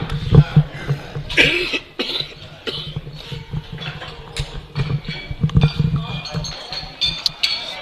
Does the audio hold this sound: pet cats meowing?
no